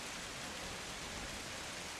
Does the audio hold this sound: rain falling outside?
yes